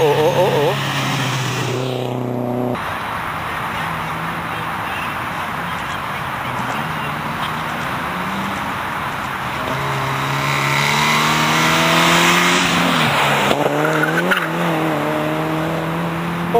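An NSU TT Group H race car up to 1300 cc runs an auto slalom course, its engine rising and falling through gears nearby and passing, with spectators talking over it.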